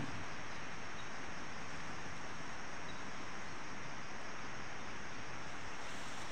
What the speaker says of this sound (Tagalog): kung naririnig nyo yung lagaslas ng tubig sa ginapukan